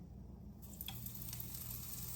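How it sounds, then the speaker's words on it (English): A soft, steady sizzle of batter hitting a hot pan, continuous crackling hiss close by, fairly quiet with no voices. "Can you hear that sizzle?"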